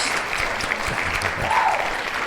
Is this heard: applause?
yes